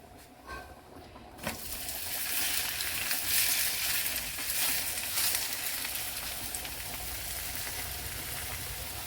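Palak chapati roasting on a pan over a low flame gives a continuous soft sizzle and crackle that starts after a short pause and stays steady, with no talking.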